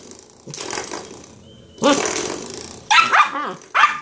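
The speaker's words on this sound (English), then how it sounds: "Okay, you silly dog." A dog barks and growls at a doorstopper in a home, with bursts of close, loud barking broken by low growls and short gaps, and no talk over it.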